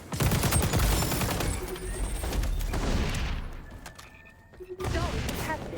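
Gunfire in a first-person shooter video game, including a shotgun blast, with heavy shooting early, a quieter lull and then renewed shots, under player chatter.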